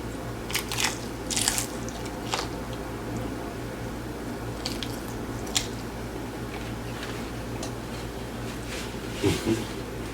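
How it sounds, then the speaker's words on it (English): Crunchy hard-shell spicy Samyang tacos being bitten and chewed up close, with scattered sharp crunches and softer squishy chewing over a quiet background hum. "I legit have to focus on chewing when I'm eating hard shells."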